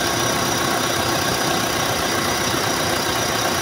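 A Mitsubishi Adventure engine idles with raised RPM after an air-conditioning actuator conversion, a loud, steady, close mechanical hum with a faint knocking texture and no talk.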